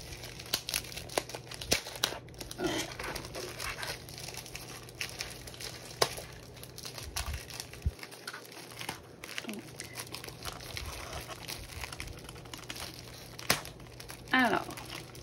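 Crinkling and tearing of tightly stuck, double-wrapped plastic packaging around a diamond painting kit, in close irregular bursts of crumpling, with a person talking in between.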